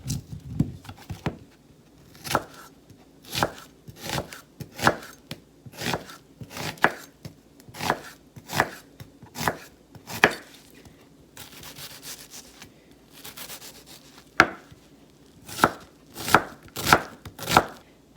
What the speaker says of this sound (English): We need 1 cup of chopped onion.